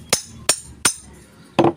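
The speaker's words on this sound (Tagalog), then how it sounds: "Kailangan natin ng martilyo. Pupukin natin." A hammer strikes the rotor of an electric fan during repair, four sharp metallic knocks spaced evenly and close by, the last with a slight ringing clink.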